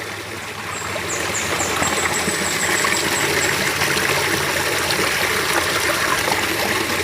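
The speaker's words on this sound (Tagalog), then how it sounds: "Lakas ang tubig eh." A strong spring-fed stream rushes steadily and loudly up close, a constant gushing flow with faint high chirps in the background.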